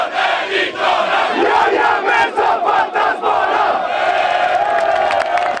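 Swedish football fans chant together at a stadium in Samara, a loud, sustained crowd roar with rhythmic shouted surges rising and falling throughout.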